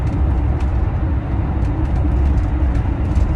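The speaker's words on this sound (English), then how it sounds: "The road noise, if you listen really hard, sounds like this." Steady broadband road and tyre roar inside a campervan rolling on stock Continental summer road tyres, a constant low rumble with no talk over it.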